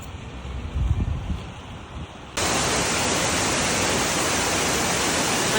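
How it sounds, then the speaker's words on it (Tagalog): Indoor waterfall inside the Silverton Casino in Las Vegas, a dense steady rush of falling water that starts abruptly after a quieter stretch and holds loud and even to the end. "Ang indoor falls. Sa loob ng ano to guys, Silverton Casino."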